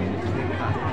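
A crowd at the Kahika temple festival in Kullu, Himachal, gives a brief, close wash of chatter and many overlapping voices.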